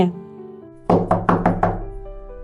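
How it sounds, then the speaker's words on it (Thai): Four heavy knocks pound on a door in quick succession, loud and close, over faint background music. "เสียงทุบประตูดังก้อง"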